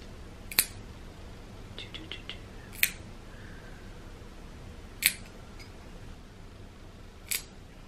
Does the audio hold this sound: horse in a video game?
no